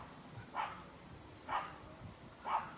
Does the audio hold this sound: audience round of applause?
no